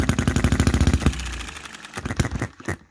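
A 2022 Chinese Enjomor hit-and-miss model engine runs up close with a rapid, even train of firing pops. It pauses briefly while coasting, then fires again in irregular bursts.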